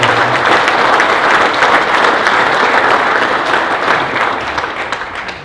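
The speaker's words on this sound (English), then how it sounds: "I think we all owe John Kulo a round of applause for the work he does for Catalyst." An audience at a professional golf association summer meeting applauds steadily and fairly loudly, a dense patter of clapping that tapers off toward the end.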